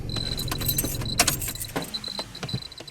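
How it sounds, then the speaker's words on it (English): Keys jangle close by as a car is switched off during a nighttime ghost investigation at a crossroads, with a sharp clink of metal in the middle and a low engine rumble fading away. "So let's turn the car off."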